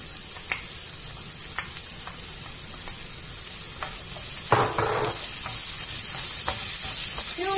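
Onions and bell peppers frying in a pan, a constant close sizzle broken by scattered scraping stir strokes, with a louder burst of hissing partway through that stays fuller to the end.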